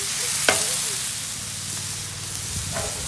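Sliced steak browning in a hot pan for a cheesesteak, giving a steady, close hiss of sizzling with a couple of brief clinks from a utensil.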